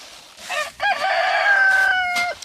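Roosters in a backyard pen crow close and loud in one long drawn-out call, preceded by a few short clucks.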